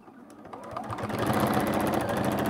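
A sewing machine stitching quilt-as-you-go fabric for a scrappy zipper pouch, starting slowly and speeding into a steady, close, loud whirring hum with a rapid needle rhythm.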